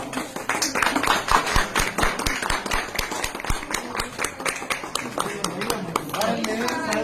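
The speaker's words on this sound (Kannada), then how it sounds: "ಚಪ್ಪಾಳೆ" A crowd claps in quick, uneven bursts at a police gathering about a recovered child, with people talking loudly over the applause.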